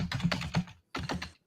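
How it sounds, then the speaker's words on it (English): Rapid typing on a computer keyboard during a live rideshare-driver stream, close and dense clusters of key clicks in two quick bursts separated by a short pause, with no talk over it. "He's typing like a madman."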